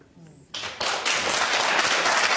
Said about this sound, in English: How can you applaud that?